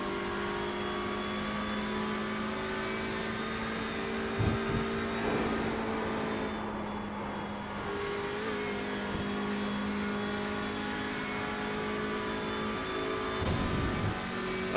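A Formula-style open-wheel race car engine in the iRacing simulator at Monza drones steadily at high revs, loud and continuous, with brief dips as the throttle lifts.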